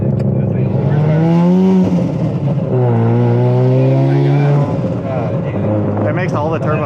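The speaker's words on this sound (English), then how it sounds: "Oh, it's just shooting fire right now. You can hear the fireballs." A Mazda RX7 FD with a turbocharged rotary engine revs loudly up and down nearby, its droning tone climbing and falling over several seconds. A voice talks over it.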